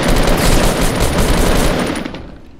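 Rapid automatic gunfire in the video game Fortnite, a loud, dense burst of overlapping shots that carries on for about two seconds before trailing off, with no talking.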